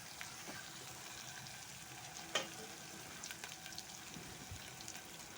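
Garlic ginger paste frying in oil while being mixed, a soft, even sizzle with faint stirring scrapes and one brief sharp pop, fairly quiet throughout.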